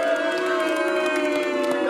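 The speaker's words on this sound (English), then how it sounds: "Round of applause for Liverpool," A crowd cheers and applauds for Liverpool Football Club, a steady dense roar with no pauses, held at one level for under two seconds.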